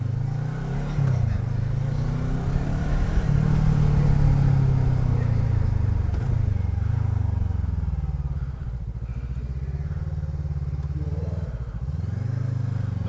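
A 2020 Voge 500DS (Loncin DS7) dual-cylinder motorcycle being ridden, a loud, smooth, steady engine drone with gentle rises and falls in revs and rushing wind, heard up close.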